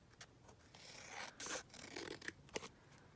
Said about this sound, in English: just trim that bottom bit off.